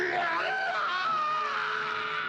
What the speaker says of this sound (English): They also hear the Jaguaro screaming